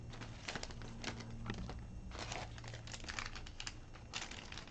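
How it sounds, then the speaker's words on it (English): Scissors snipping open a foil Pokemon card pack, close up: bursts of sharp, crisp clicks and crinkles in quick clusters with short pauses between, over a steady low background hum and no talking. "I'm just gonna use scissors now."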